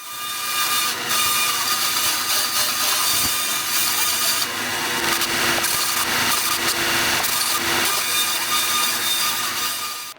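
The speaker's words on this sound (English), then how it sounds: "I'm going to run each piece across the blade of my bandsaw going backwards to add some bandsaw" A bandsaw blade runs steadily as pieces of 2x4 lumber are pushed backwards across it to leave saw marks for a bar stool seat, a loud continuous whine with shifting cutting noise throughout.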